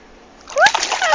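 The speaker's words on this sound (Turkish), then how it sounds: "Şimdi ayaklarımızı suya bastıracağız" Bare feet plunge into icy winter sea water, a sudden splash and splatter after a quiet lapping start, with a high squeal of reaction over the water noise.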